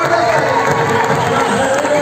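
A live audience applauds and cheers at an event in India, a dense continuous wash of clapping and shouting that stays loud and even throughout, with a voice talking over it.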